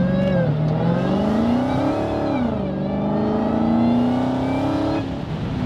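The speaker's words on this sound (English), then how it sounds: "It wasn't full throttle, I just barely gave it gas." A 2018 Dodge Hellcat, freshly rebuilt after a wreck, accelerates on light throttle with a touch of wheel spin: a loud, steady engine drone rising and falling in pitch, close up, with no talk.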